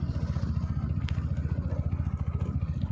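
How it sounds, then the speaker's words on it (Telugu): Motorcycle engine running steadily close by while following runners on a track, a continuous rhythmic mid-pitched throb with a couple of brief clattering ticks, no talk. "బైక్ మీద ఫాలో అవుతున్నా ట్రాక్ నుంచి"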